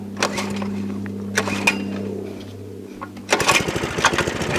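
A Baja DB30 Coleman CT100U minibike with a small old-school engine holds a steady, buzzy idle. Partway through it revs up into a louder, rougher, pulsing run close by.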